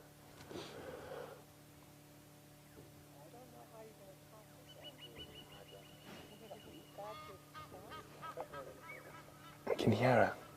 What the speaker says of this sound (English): I can hear an Egyptian goose making noise in the distance.